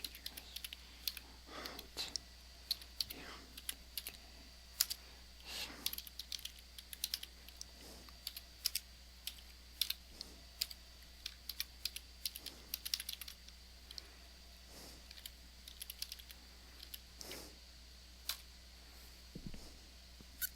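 Computer keyboard typing while a Kali Linux USB drive with persistence is being set up, with irregular bursts of close, crisp key clicks and short pauses throughout, no talking.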